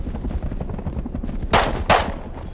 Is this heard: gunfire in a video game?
yes